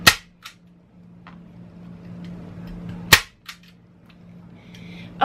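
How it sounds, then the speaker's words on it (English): A staple gun fires staples through fabric into a display board, with two loud sharp snaps a few seconds apart, smaller clicks between them and a low steady hum underneath. "Now I'm going to the middle and I'm going to place a staple."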